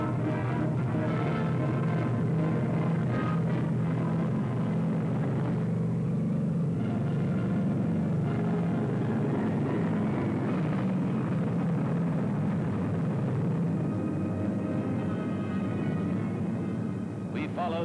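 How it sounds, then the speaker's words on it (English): A formation of B-29 Superfortress bombers takes off in a historic mission of 68 aircraft, a heavy sustained engine rumble and roar that never lets up, with a narrator's voice over it. "Watched 68 superforts become airborne."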